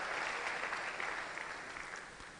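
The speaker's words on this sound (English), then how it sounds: "please give her another wonderful round of applause." An audience at an international conference on African development applauds a speaker, a brief, dense wash of clapping that holds steady and fades slightly at the end.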